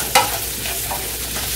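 Beef and broccoli stir fry cooking in a pan, giving a steady close sizzle with a brief sharp stir or clatter near the start, then continuous frying texture throughout.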